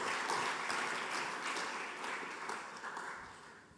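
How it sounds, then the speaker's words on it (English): An audience applauds to welcome two speakers at a conference session on the Forge security and privacy model, a soft, distant wash of clapping that stays fairly even before tapering slightly. "So a warm round of applause for Joël and Dugald."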